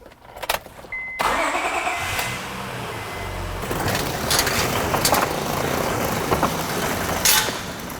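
A few clicks and clunks, then a 2005 Honda Odyssey minivan engine cranks and catches, settling into a steady close idle that rumbles on without talk.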